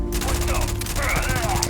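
Rapid gunfire from hip-firing a weapon in the video game Starfield: a dense, fast rhythmic burst of shots fills the short moment, loud and close, mixed with game effects and a brief tonal sweep.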